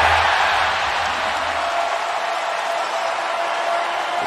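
Arena crowd noise at an NBA game between the Milwaukee Bucks and Toronto Raptors, a broad steady roar of many voices that is loud and continuous, with a slight swell at the start.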